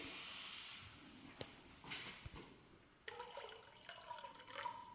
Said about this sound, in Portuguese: Vou pôr um pouco d'água aqui.